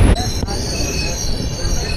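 A train crosses the Kashi bridge over the Ganges with loud, close wheel squeal and a heavy rumbling roar that fills the whole moment.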